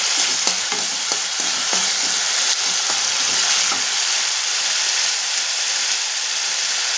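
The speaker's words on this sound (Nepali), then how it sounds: "प्याज चाहिँ एकछिन भुटोस्, अन्त त्यो हाल्नुहोस्।" Onion and garlic sizzle steadily in a hot pan, a bright, continuous frying hiss up close, broken early on by a few scraping stirs.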